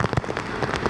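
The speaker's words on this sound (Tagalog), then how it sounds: "Lakas ng ulan, tapos lakas ng alon." Heavy rain pattering densely on surfaces at a seaside house in Albay, Bicol, Philippines, a steady loud wash with scattered drop hits; no clear separate wave sound stands out.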